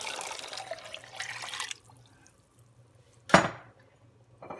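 Water poured into an Instant Pot of borscht makes a steady splashing rush for about two seconds. A sharper splash follows near the end, with no voices.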